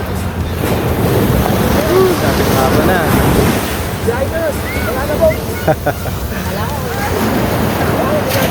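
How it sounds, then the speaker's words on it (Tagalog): Ocean surf breaking on the beach at Morong, Bataan in the Philippines, a steady wash of waves under wind noise with people talking over it. "Ganda na ng alon ha."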